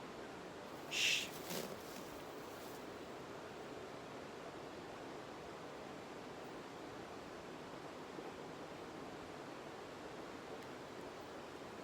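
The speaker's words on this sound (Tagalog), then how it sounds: "ingay ng tubig dito sa sapa." Steady broadband rush of water running over rocks in a forest creek by a small falls, continuous and even throughout with a brief brighter splash or chirp near the start.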